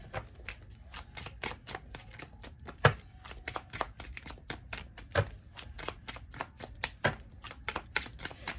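Tarot cards shuffled and drawn by hand, a quick run of crisp riffling flicks and taps at close range, fairly quiet, with a few sharper snaps.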